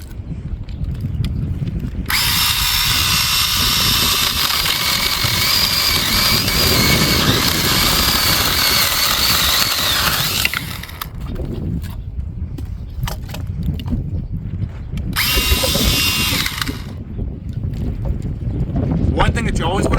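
Small 6-inch battery-powered loveWe mini electric chainsaw cutting firewood, a loud high whine in two bursts, a long one of about eight seconds and then a shorter one, with a low background murmur between them.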